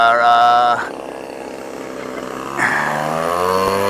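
An E-flite UMX Timber micro RC plane flies at a float fly on a misty morning, its small electric motor whining at a shifting pitch that drops and then rises again as it passes nearby.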